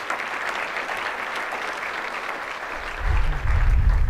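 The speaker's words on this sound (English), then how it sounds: "a round of applause for them." An audience at a United Way annual meeting applauds in a steady, sustained wash of clapping that swells louder near the end.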